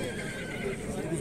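A horse whinnies amid the bustle of the Gulcho livestock market in the Alai region, a short faint neigh heard under nearby chatter and crowd noise, with a hint of hoof clatter.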